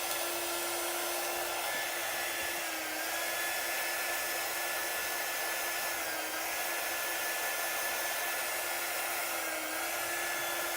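A hair dryer blows gentle air to dry chalk paste on a shirt, a steady, constant whirring hum with a faint whine, close by and uninterrupted, with no talking.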